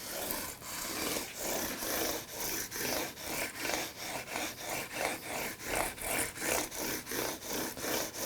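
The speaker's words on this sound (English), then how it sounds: "I'm just polishing the tops of the frets with this." Back-and-forth rubbing of a weighted polishing beam across the tops of electric guitar frets, a steady rhythmic scraping stroke repeating about twice a second, close and alone.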